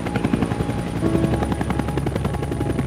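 A French Navy helicopter sounds loud and steady throughout, its rotor thump and turbine whine holding up close with no talk over it.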